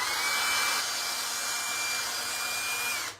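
A small high-pitched drill with a 1/16-inch bit whines steadily for about three seconds while drilling a hole in a Peterbilt 389 model truck part, a thin continuous tone with hissy grinding noise, stopping abruptly at the end.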